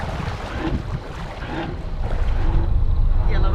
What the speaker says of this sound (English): Then I use the boat thruster to port.